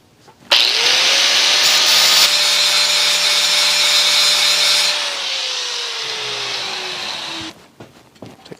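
An angle grinder cuts through the drive chain of a TaoTao ATV, a steady loud whine with a harsh metal-on-metal grind held for about seven seconds before it winds down and stops.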